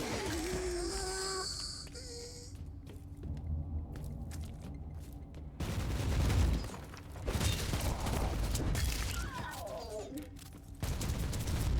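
Grenade explosions and bursts of gunfire in the video game Warhammer 40,000: Inquisitor – Martyr, heavy booms and rapid firing layered over game music, with a voice briefly speaking near the start.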